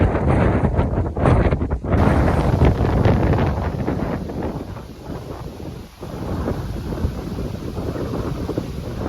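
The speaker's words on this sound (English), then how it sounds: "the wind is still horrendous" Strong wind roars and buffets the microphone on an exposed hillside path along the Cotswold Way in bad weather, a loud, continuous rumbling gusting that eases slightly partway through, with no voices.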